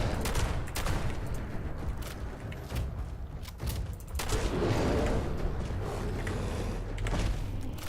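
Repeated shotgun blasts in the video game Fallout 76, loud and dense with overlapping bursts and booms running through the whole stretch, with no talking.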